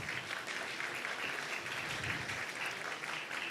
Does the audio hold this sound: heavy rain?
no